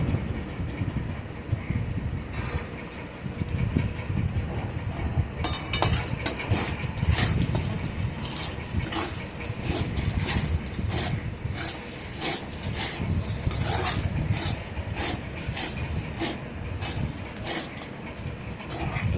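Metal utensils clink and scrape against a pot as sago pulao made with ghee is transferred into another vessel, with steady close clatter and scraping throughout.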